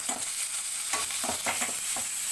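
Onion and tomato frying in a pan for chicken fry, a steady close sizzle with intermittent scraping stirs and soft clatters of a spatula, no voices.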